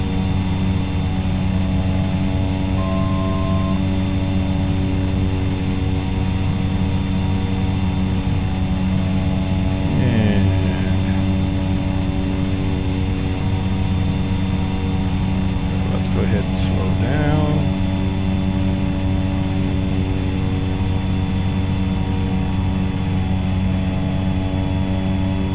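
A Cessna 208B turboprop engine drones in flight in the X-Plane 11 simulator, a steady, loud, tonal hum that holds throughout while someone talks over it.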